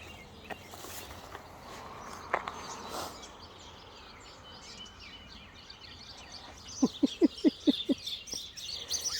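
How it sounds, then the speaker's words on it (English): Sparrows chirping on an outdoor walk near a rain gutter holding water, scattered calls at first, then a quick run of five or six sharp chirps close by toward the end. "It's a sparrow frenzy."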